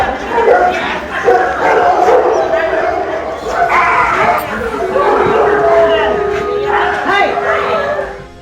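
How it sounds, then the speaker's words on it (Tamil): A pit bull savages a street dog on a residential street in Chennai. Yelps, whimpers and barks mix with crowd shouting and constant talk. "பிட்புல் ரக நாய் துரத்தி கொடூரமாக கடித்துக் கொன்றது"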